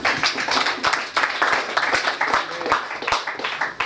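A church congregation claps together at a thanksgiving offering service, with dense, steady applause running throughout, fairly loud and close, with no voices over it.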